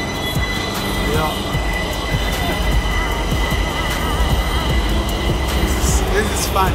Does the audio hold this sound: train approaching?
yes